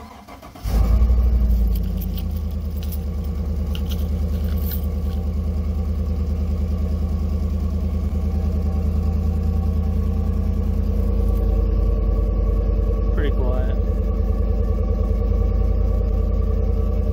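A 2017 Chevy Silverado with dual exhaust and a possible exhaust leak cranks over and fires up, then settles into a loud, steady, deep rumbling idle close to the microphone, with no talking.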